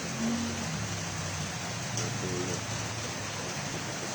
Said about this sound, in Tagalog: kung anong lakas ng ulan sa labas, lakas din ng ulan sa loob